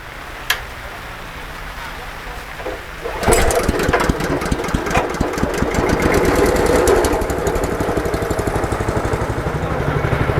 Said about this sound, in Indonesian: ya mesin giling yang biasa kita gunakan giling Mas.